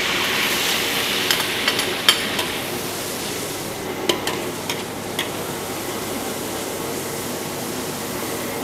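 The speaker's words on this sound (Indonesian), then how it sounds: "Minyak udah masuk, bawang putih ya." Garlic frying in hot oil gives a steady, even sizzle throughout, with a few sharp clinks of a utensil stirring against the pan.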